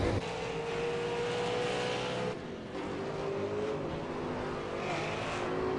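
A Ford Falcon V8 race car in a racing sim drones at steady high revs, a continuous loud engine tone with a brief dip in pitch midway, heading into the pits at Road Atlanta.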